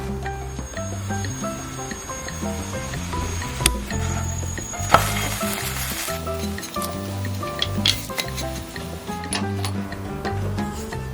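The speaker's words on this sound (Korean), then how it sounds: "이렇게 앞뒤로 버터를 바르고 프라이팬에 노릇하게 구워주기만 하면 돼요" Buttered sandwich bread toasts in a frying pan with a soft, steady sizzle, broken by a few light clicks and scrapes, over a faint background hum.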